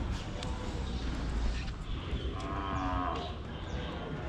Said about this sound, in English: But Daddy Cow is calling all those other cows over